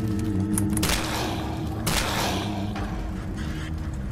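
Repeated shotgun blasts ring out in the 2D video game Dead Frontier, several booming shots at uneven intervals over a steady noisy background, with no talk.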